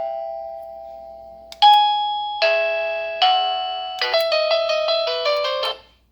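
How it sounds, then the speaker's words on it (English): Wuloo intercom doorbell playing a sequence of clear electronic chime tones, a sustained single note followed by several rising and falling bell-like notes in quick succession, close and clean with no talk. "If you didn't like that ringtone that we choose, or that doorbell tone"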